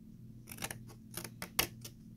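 Scissors snip through paper while making an envelope box, giving several quiet, crisp cuts in an irregular rhythm, close by and alone against a faint background.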